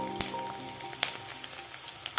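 Chopped onion and green chillies sizzle in a pan with a soft, steady crackle, punctuated by a few sharp ticks of a spoon against the metal.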